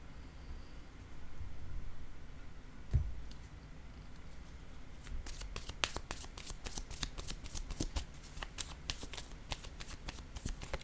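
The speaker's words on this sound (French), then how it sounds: "Je vais déposer une carte ici sur les flammes jumelles" A tarot card is set down on a table during a reading, a single soft tap in a quiet room, followed by a run of faint papery card ticks and light rustling.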